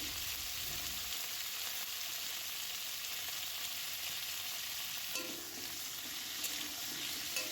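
Steady, continuous sizzle of washed olives in a wok, an even hiss with faint pops, fairly quiet and close, with no talking.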